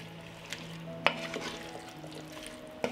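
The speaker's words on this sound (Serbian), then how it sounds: "I krompir ću promešati." Chopped potatoes stirred in a pot with other ingredients, a soft low sizzle with a few sharp scrapes of a utensil against the pot, fairly quiet.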